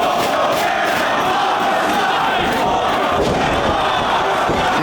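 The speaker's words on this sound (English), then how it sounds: "Crowd trying to rally behind Cabana here" At a Ring of Honor wrestling event, the crowd cheers and rallies behind a wrestler in a loud, sustained roar. Rhythmic swells of shouting and chanting fill the whole stretch.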